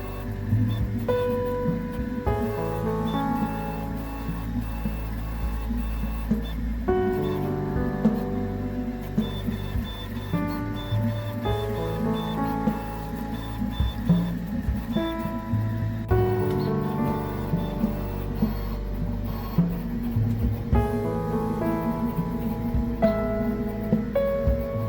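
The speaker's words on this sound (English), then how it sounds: "The middle section of the model has more room for acceleration, and the print head moves quite fast." A Prusa Core One CoreXY 3D printer prints with its print head moving fast, producing whining stepper-motor tones that shift pitch in rapid sweeps over a steady low hum, continuous and close.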